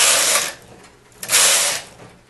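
Knitting machine carriage sliding across the needle bed to knit rows, two loud whooshing, rattling passes with a short pause between, close and without talk.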